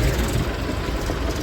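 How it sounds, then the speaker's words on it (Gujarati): A tractor engine idles close by, its low, steady rumble throbbing continuously through a short stretch. "જો બધા છે ને આ તો ટ્રેક્ટર છે ભમરા જેવા"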